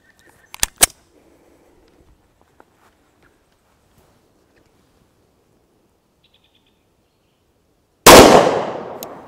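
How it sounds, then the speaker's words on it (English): A 10mm 200-grain Hornady XTP pistol round fired from a Kimber 6-inch 1911 into a Level 4 plate carrier insert: a loud, sharp shot bursting near the end after a long quiet stretch, preceded by a couple of brief clicks. "Got a 200 grain Hornady XTP loaded by Underwood ammunition, and we'll shoot it from the Kimber"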